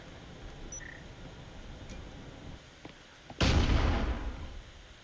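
A grenade blast in a team shooter game erupts loudly after a few seconds of quiet ambience with faint distant pops, its roar decaying slowly over the remaining moments.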